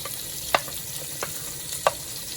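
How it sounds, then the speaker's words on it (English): Sweet pepper, onion, garlic and tomato fry together in a pot, giving a steady, even sizzle broken by a few sharp pops. "So I'm going to leave this for it to fry up."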